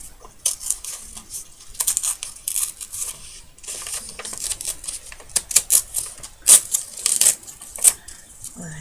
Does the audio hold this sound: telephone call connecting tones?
no